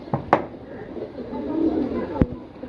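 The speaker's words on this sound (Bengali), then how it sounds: "এগুলো পাগলা ডাকা ডাকে এসব কবুতর" Male pigeons coo loudly at close range, a few sharp clicks and knocks breaking through a steady low murmur of cooing.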